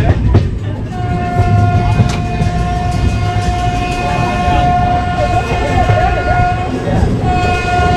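The 13466 Intercity Express passenger train runs between Malda and Nabadwip with a loud, continuous rolling rumble and clatter, while a long, sustained horn-like tone sounds over it.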